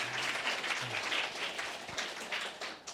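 Warm audience applause for the parents at a children's choir worship service in a church, a steady, dense wash of many hands clapping together that carries on for about three seconds without a break.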